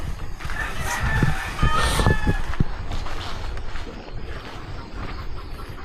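Chickens cluck and a rooster crows in a rural yard on a birthday, where ducks and chickens are about to be butchered. The loud, steady outdoor bird noise runs throughout, mixed with faint background voices.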